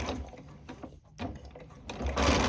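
A sewing machine stitches along piping for a bag or cushion, running in steady bursts with a brief pause midway, close and moderately loud.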